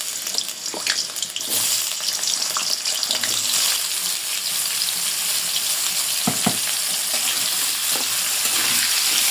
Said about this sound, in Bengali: আমি প্রথম পর্যায়ে একটু আলুগুলো ভাজা নেব।